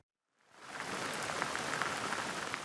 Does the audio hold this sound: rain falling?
yes